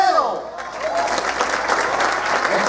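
An audience applauds a youth symphonic band from Acapulco, Guerrero, with dense, sustained clapping from a crowd, and a voice is briefly heard at the start.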